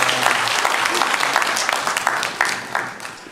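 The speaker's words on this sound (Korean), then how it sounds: "감동의 박수를 우리 하나님께 올려드리겠습니다" Applause from a Sunday morning church congregation, many hands clapping close and fairly loud with distinct individual claps audible, tapering slightly toward the end.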